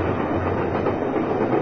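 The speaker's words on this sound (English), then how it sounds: "Oh, you got trains here, too. Damn. Double-deckers, is it?" A double-decker train rolls past nearby with a continuous dense rumble and rattle of railcars. The sound is steady and fairly loud throughout, and no one talks.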